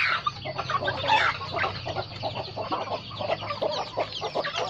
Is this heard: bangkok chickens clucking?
yes